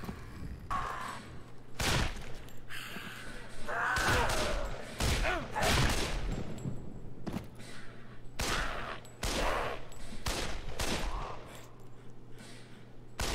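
Gunfire in the video game Shellshock 2: Blood Trails, with loud shots in irregular bursts and clusters throughout, some overlapping, with little pause between them.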